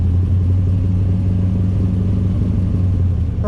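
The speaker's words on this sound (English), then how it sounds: "So now the question is, what does 620 horsepower out of an LSX 454 sound like?" A 620-horsepower LSX 454 V8 with Holley Terminator injection in a 1970 Chevelle runs loud and steady at close range, a deep continuous rumble with no break and no talk.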